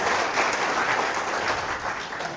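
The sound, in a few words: audience applause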